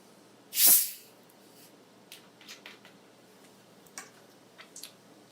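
Orange Faygo soda poured over a scoop of chocolate ice cream: one loud, brief fizzing hiss at the start, then scattered faint crackles and pops in a quiet room.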